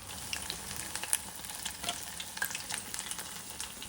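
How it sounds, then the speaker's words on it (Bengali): Spinach pakora fritters with rice flour frying in hot oil, a steady close crackling sizzle with scattered sharper pops throughout, no voices. "ভেজে নিচ্ছি"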